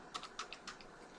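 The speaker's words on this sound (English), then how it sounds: "by typing it in my search bar" Computer keyboard being typed on, five or six quick, light key clicks in an uneven burst, close and quiet, with no speech.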